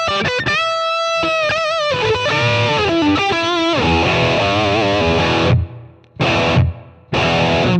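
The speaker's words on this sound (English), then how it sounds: "this is what it sounds like with the plate on my heavy patch." Heavy distorted electric guitar played through a Strymon BigSky plate reverb, sustained chords and riffs with ringing tails, then stopping as the reverb decays into short gaps before loud chords return, alone and close.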